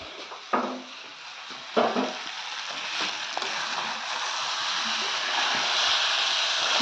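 Fried potatoes stirred into rice in a pan give a steady, fairly loud sizzling hiss, with a couple of sharp clatters of the spoon against the pan early on and a continuous frying noise throughout, no talking.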